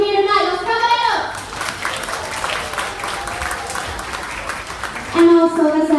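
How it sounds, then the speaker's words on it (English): Applause and cheering from a crowd at a bar during a tribute show in Ibiza, a dense clapping roar that swells in the middle between stretches of amplified singing. "give a huge round of applause to all your hard-working bar staff in here tonight"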